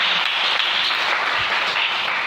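A church congregation applauds together in a steady, full round of clapping that holds at an even level throughout, with no voices standing out.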